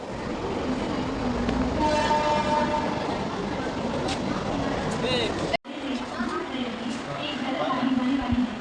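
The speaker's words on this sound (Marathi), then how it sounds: "लोकल अराइव आहे" A local train pulls into a platform at Thane station. A steady heavy rumble builds under a loud train horn, and voices and platform noise continue throughout.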